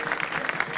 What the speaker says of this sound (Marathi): एकदा त्यांच्यासाठी टाळ्या झाल्या